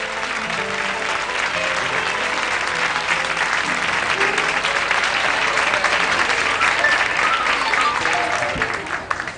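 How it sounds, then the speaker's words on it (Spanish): A television studio audience applauds warmly for a visiting pop band on a late-1970s Spanish variety show, steady sustained clapping filling the whole stretch at close, even loudness. "que recibimos con un cariñoso aplauso"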